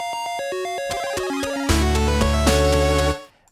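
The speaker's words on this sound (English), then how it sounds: "That's like the Mario power-up sound, right?" Mario power-up chime from a Nintendo video game rendered in 8-bit style: quick rising arpeggio of bright synth blips, then a heavy bass-backed chord burst that cuts off, loud and without talk.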